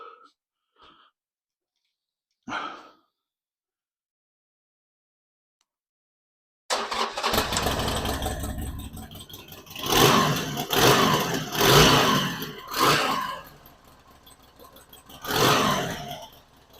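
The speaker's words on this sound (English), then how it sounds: "So the bike needs to be started." A few quiet clicks, then a Harley-Davidson motorcycle engine that burns oil fires up and runs, rough and loud up close, with several throttle blips revving up and settling back.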